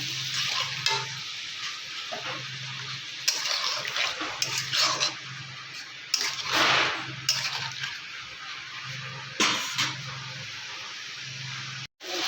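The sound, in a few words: sautéing cumin, ginger, green chili paste with water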